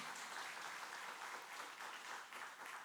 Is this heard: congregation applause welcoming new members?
yes